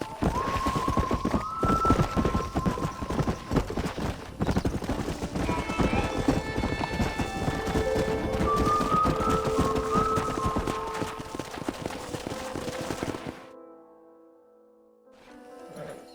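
Horse hooves clip-clopping at a steady trot in the Red Dead Redemption video game, a continuous rhythmic clatter with a horse's whinny and game music over it, then fading out near the end.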